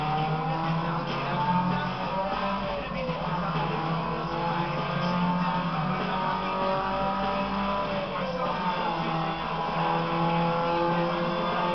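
A car engine revs steadily while driving in the game Need for Speed Underground 2, a continuous loud motor drone with shifting pitch that runs through the whole stretch, and no talk.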